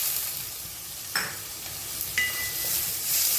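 Tomatoes tipped into a pan of salted onions frying until reddish, for a spicy matki sprouted moth bean curry; a steady close sizzle with a few sharp bursts and scrapes of stirring, no voices.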